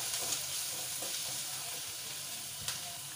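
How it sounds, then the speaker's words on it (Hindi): Ginger and garlic fry in a pan of hot oil, giving a steady, close sizzle with occasional soft stirring scrapes and no talk. "अभी इसे हमें थोड़ा और बस 10 से 12 सेकंड तक थोड़ा हल्का सा भूना है, ताकि जो अदरक का जो कच्चा स्मेल होता है वो चला जाए।"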